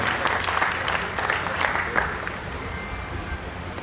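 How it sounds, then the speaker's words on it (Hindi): Audience applause at a trust's scholarship and award ceremony for students in Sirsa, moderately loud and roomy, swelling early and then thinning to a softer patter as it trails off. "जोरदार तालियां हो जाएं इसी के लिए"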